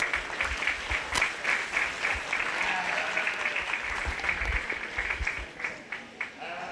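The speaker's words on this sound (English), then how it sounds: "So let's give these guys a round of applause," Audience members at a 4-H/FFA sheep and little lambs show applaud in a steady, moderately distant round of clapping, with faint voices mixed in.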